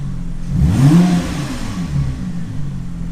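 A car engine revved with a short blip of throttle, rising quickly to a brief mid-pitched roar before settling back to a steady idle hum.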